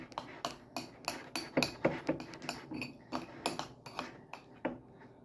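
Spoon stirring and pressing cornstarch clumps in a bird seed mixture, a steady run of gritty scrapes and light clinking taps in an uneven rhythm, fairly quiet and close.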